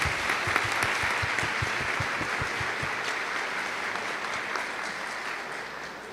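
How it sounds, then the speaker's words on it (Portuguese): Audience applause at an in-person event, a dense rhythmic clapping early that settles into a steady wash of clapping, fairly faint and continuous. "eu queria novamente pedir uma salva de palmas para a Rubilene"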